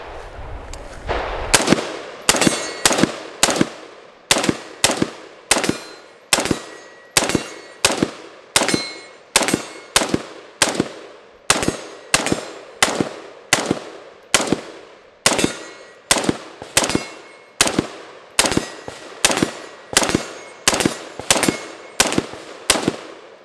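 A PSA JAKL rifle fires a long string of single shots at a steady, measured pace, around thirty loud, sharp reports each ringing off briefly, with no talking between them.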